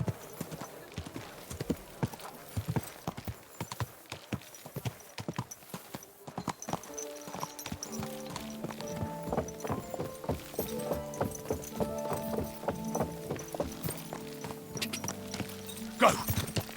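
Rhythmic horse hoofbeats in Kingdom Come: Deliverance 2 clip-clop steadily at a walking pace, close and fairly faint, with a tonal musical layer joining partway through.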